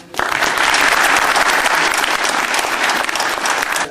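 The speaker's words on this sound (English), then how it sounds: "a round of applause for Robert Anthony" A conference audience at the RPA Conference gives a loud, dense round of applause that starts abruptly and sustains as a thick wash of clapping, slightly easing toward the end.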